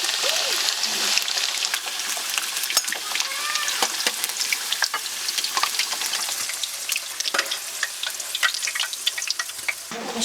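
Potatoes and lamb fry in a pan for lamb biryani, a loud, dense, continuous crackling sizzle heard close up with scattered spitting pops.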